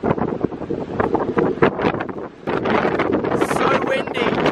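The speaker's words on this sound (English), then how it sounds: "So windy!" Strong wind buffets the microphone in gusts on a cruise ferry from Osaka to Busan at night, with a rushing roar throughout and a brief lull midway.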